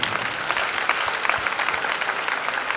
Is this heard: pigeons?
no